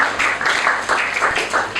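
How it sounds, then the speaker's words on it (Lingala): A church congregation claps in acclaim of the Lord, in steady rhythmic pulses of applause that fill the room. "Est-ce que tu peux acclamer le Seigneur?"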